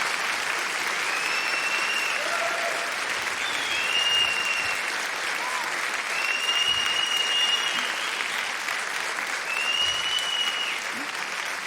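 An audience claps steadily and loudly in continuous, dense applause throughout, with a few faint whistles rising over the crowd.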